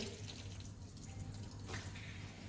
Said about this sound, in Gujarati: તો એને આપણે પાણી બધું કાઢી નાખીશું.